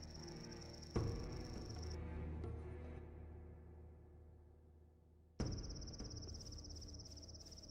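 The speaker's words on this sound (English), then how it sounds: "Damn crickets." Crickets chirp in Gothic II as a thin, steady high trill over a low ambient bed. They cut out for several seconds, then resume just as loud.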